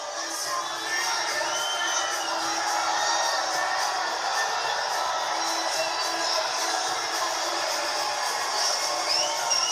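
A kickboxing arena crowd cheers, whoops and applauds as Rico makes his ring entrance, a continuous loud roar of many voices sustained across the whole stretch.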